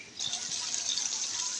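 A small splash of water poured into spice masala in a cooking pot for beef head biryani, a short soft trickling pour that starts abruptly and runs steadily, close up with no talking.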